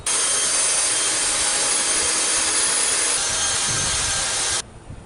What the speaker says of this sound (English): So I'll go ahead and drill some holes